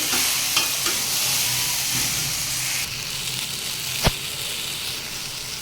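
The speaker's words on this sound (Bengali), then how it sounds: "সবজিটা কষাতে কষাতে কতটা কমে গিয়েছে" Mixed vegetables for a vegetarian dish being stir-fried and reduced in a pan, a steady broadband sizzle with scraping stirs, a sharp clack near the end, close and continuous with no talk.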